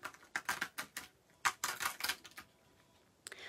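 A stencil is peeled off an art journal cover in short bursts of crisp crackling and tearing, several quick rips close by with brief pauses between them, and no talk.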